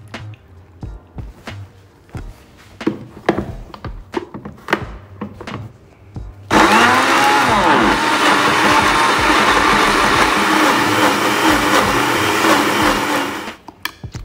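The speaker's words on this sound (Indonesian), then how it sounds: "Kita pakai blender aja sekarang." A blender grinds ingredients for Indonesian pindang Palembang, roaring loud and steady for about seven seconds after a run of clattering kitchen knocks and thumps, then cutting off.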